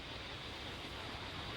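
Steady, soft broadband hiss of cosmic background radiation static, even and unbroken, with no other sounds.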